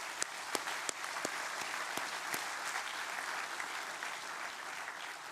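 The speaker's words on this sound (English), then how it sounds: "I think you deserve a big applause." Distant, even audience applause at the opening of a university science building, with a few sharper individual claps standing out near the start.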